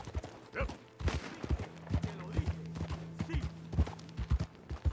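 Horse hooves clip-clop at a steady walking rhythm in Red Dead Redemption 2, close and moderately loud, with a low hum and faint background game ambience underneath.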